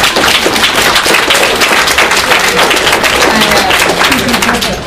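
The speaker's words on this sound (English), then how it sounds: "Please clap for this." Loud, dense clapping from a convention crowd at a comic con cosplay panel, sustained evenly for several seconds and tapering slightly at the end, with murmured voices underneath.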